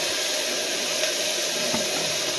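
Ginger garlic paste sautés in a pan for vegetable kurma, giving a continuous broadband sizzle with a faint clink partway through.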